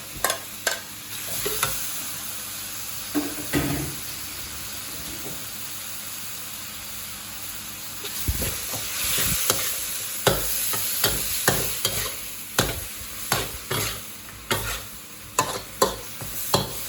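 Pork and broccoli stir-fried with carrots in a pan: a steady sizzle and hiss under repeated scraping and stirring strokes that grow busier toward the end.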